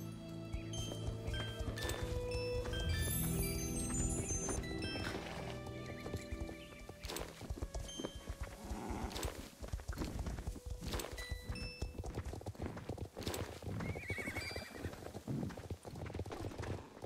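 Hooves of a ridden horse clatter in a western video game, rhythmic thuds under layered game music, with neighing and brief clunks scattered through the ride.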